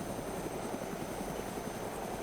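Helicopter in the video game DayZ, a low steady rotor drone with a faint continuous whine, sounding distant and quiet with no talk over it.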